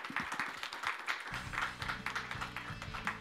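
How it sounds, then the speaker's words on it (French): Audience applause at an inaugural conference, a steady patter of many hands clapping at moderate distance, with a low voice murmuring underneath in the first moments. "je crois qu'on peut l'applaudir"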